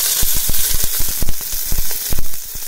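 Green chillies and onion sizzling and frying in hot oil in a pan for red saag, with a steady crackle and sharp popping bursts at irregular intervals, close and fairly loud with no talk.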